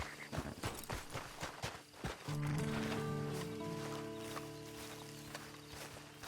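Horse hooves clip-clop in a steady walking rhythm at moderate distance, followed by a dramatic musical score swelling over the hoofbeats, in an old film scene of people fleeing on horseback before an alarm is raised.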